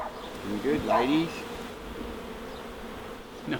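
Honey bees buzzing close by while a hive is transferred into a new box, a few distinct rising and falling buzzes early on over a low steady hum.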